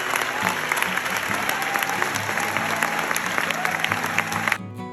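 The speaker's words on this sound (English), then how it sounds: "the overwhelming wave of applause from the audience" Applause at a Venice Film Festival screening, a large audience clapping steadily with crowd murmur underneath, cutting off near the end.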